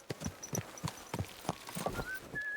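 A horse's hooves clip-clop in a steady walking rhythm in the video game Kingdom Come: Deliverance II, quiet and close, with faint tonal game sounds toward the end.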